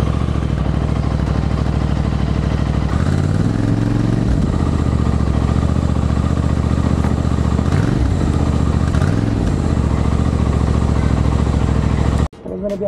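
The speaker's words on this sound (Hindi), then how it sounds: "एक वीडियो बनाई थी जिसमें आपको बस आवाज़ सुनाई कि अभी कैसी आवाज़ चल रही है इंटरसेप्टर की" A Royal Enfield Interceptor motorcycle runs on its original exhaust, a loud, steady close-up engine throb with a few brief rises in revs before cutting off near the end.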